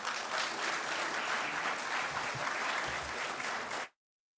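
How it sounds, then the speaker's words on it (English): A media awards gala audience welcomes a performer to the stage with full, sustained applause for nearly four seconds, steady and dense, then a sudden cut to silence. "And so tonight, we are absolutely pleased, I hope you feel the same way too, by your applause, to welcome to the stage Mr. Cbu Jelani."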